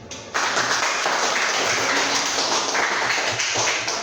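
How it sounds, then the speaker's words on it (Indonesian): A classroom audience claps hands together during a lesson, breaking in abruptly as a loud, dense burst of applause that holds steady for several seconds and fades slightly at the end. "Tepuk tangan dulu."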